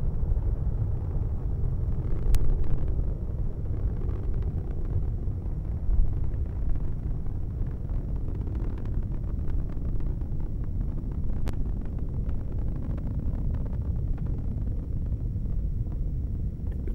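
A SpaceX rocket carrying a Dragon capsule climbs after launch, a continuous deep roaring rumble with wind buffeting, steady and distant-sounding, with no voices over it.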